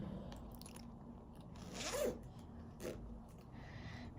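A bag's back pocket being zipped shut, one short close zipper pull in the middle with a softer rustle after it, over quiet room background; no talking.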